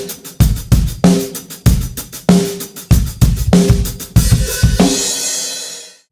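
Drum kit plays a groove with the hi-hat struck by alternating hands, a busy run of hits with kick and snare accents closing on a long, washy cymbal crash, close and loud without talk.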